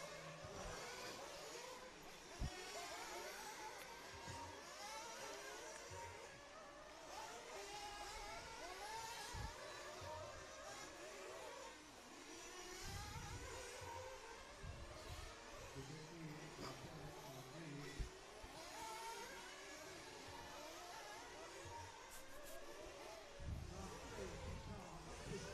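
Several 1/8th-scale IC nitro buggies race around an off-road track at a European championship finals, their engines a continuous, dense, high-pitched buzzing whine that rises and falls as they pass, loud and steady throughout.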